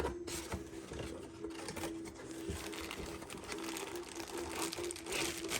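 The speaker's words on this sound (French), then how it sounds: "On enlève les scotch" Close crackling and rustling of packaging as tape is pulled away, a continuous scratchy tearing texture over a faint steady hum.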